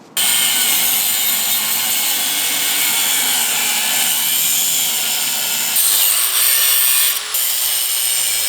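A power cutting tool grinds continuously and loudly through motorcycle seat mounting points, a harsh steady rasp that shifts in pitch near the end, with no speech.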